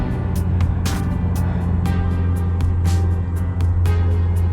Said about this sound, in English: I can hear the traffic not too far.